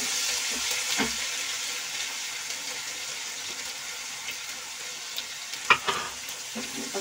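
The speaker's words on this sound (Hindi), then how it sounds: "अब मैं इसमें प्याज डाल दूंगी।" Onions fry in hot oil in a wok with garlic and cumin for a mushroom and capsicum curry. A continuous close sizzle runs throughout, with a few clattering stirring knocks near the end.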